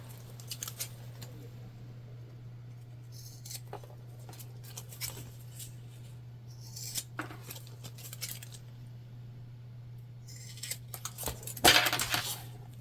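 Scissors trimming fabric for a sewing project, an Explorer Sling bag: scattered short snips and crisp cutting clicks, close and quiet, with a busier flurry of snipping near the end, no talking.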